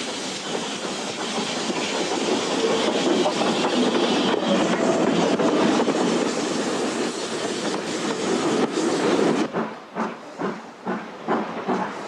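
A train on a preserved railway in southern England, near Churston, rumbles past with a steady roaring hiss. The noise then breaks into rhythmic clacking wheels as it moves on.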